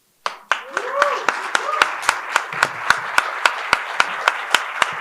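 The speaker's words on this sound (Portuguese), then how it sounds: "Escuta, aplaude." A small audience at a book fair event claps in sharp, evenly spaced hand claps that build into steady applause, close and loud over a quiet room.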